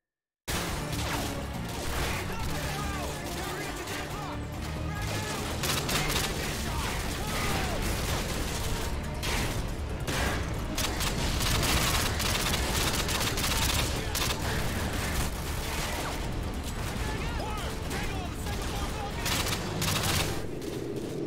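Dense, continuous gunfire and explosions from the Call of Duty MW2 campaign fill the whole stretch at steady loudness, rapid bursts layered over each other without pause.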